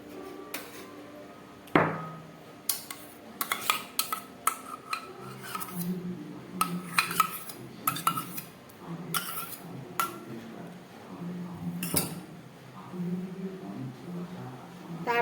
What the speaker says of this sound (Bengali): একটা বাটি নিয়ে নিলাম, তার মধ্যে আমি এই তালটাকে দিয়ে দিচ্ছি।